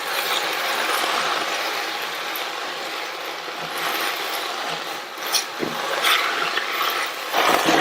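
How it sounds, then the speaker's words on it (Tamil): Cleaned keerai greens are sautéed in a pan over a low flame, giving a steady, soft broadband sizzle and rustle with a few brief scrapes near the end and no voices. "ஸ்டவோட தீயை குறைச்சிட்டு நம்ம க்ளீன் பண்ண கீரையை சேர்த்துடலாம். சிம்லயே வச்சு இந்த கீரையை வதக்கி கொடுங்க."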